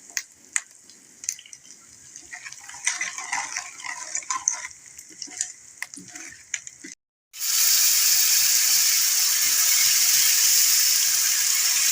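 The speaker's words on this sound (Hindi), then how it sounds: "अब इस सारे मसाले को 3 मिनट के लिए हम भूनेंगे।" Spices with crushed red chilli frying in a pan for daal masoor: light clinks and scattered taps, a brief silence, then a loud, steady sizzle that holds to the end.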